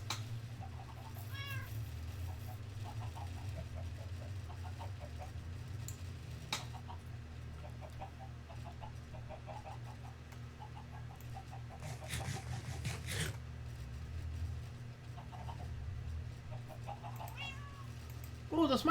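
A pet cat meows repeatedly nearby, a string of short cries spread through the clip, over a steady low background hum with a few clicks and brief noise bursts.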